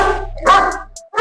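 Dogs at a pet shop kennel in Nanded bark in a few close, loud bursts with a brief whine between them, all within a moment.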